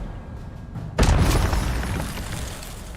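The Incendio fire spell going off in Hogwarts Legacy, a sudden loud fiery burst that flares and then crackles and rumbles as it fades, with faint background ambience before it.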